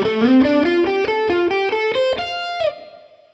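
Distorted electric guitar runs a fast pentatonic shred lick high up the neck in position 5, a quick stream of picked and slid notes climbing then ending on a ringing, sustained note, loud and alone.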